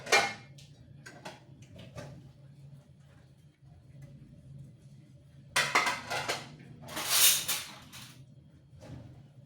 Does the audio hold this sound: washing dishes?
yes